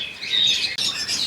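Pet birds chirp inside an aviary cage housing lutinos, Java sparrows, finches, lovebirds and cream cockatiels, where a mated pair sits with chicks; a steady, fairly close stream of high, overlapping tweets and calls runs throughout with no pause.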